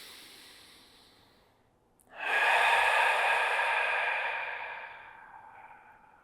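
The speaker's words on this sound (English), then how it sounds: "You can take a deep breath in to start." Slow, deep inhale through the nose while lying in yoga corpse pose, one long close breath that swells and then fades gradually.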